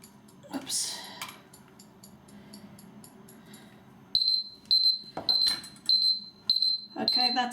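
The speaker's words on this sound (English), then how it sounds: "Okay, that's my timer." A kitchen timer beeps in a quick repeating series of short, bright, loud tones, after quieter handling noises while lather is being tested with a shaving brush.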